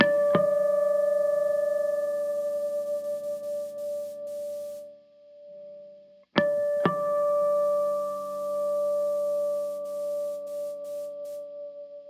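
Two electric guitar strings are plucked together twice during standard tuning and ring out steadily, their tones slowly beating against each other as they fade.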